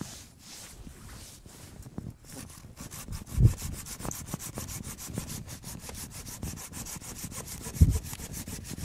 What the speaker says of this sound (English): Those saws work pretty slick, better than hanging on to a big axe